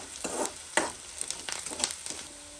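Onion and cumin frying in a pan and being mixed together, a soft sizzle broken by several scraping strokes of a spatula, fairly faint.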